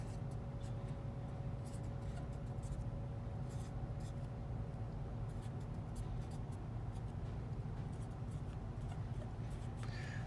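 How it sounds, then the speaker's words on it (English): Marker or pen writing math on a board or paper during a surface integral lesson, faint scratchy strokes in short bursts over a steady low hum, quiet and close. "I'm going to write that down here to make it a little easier to take the dot product I need"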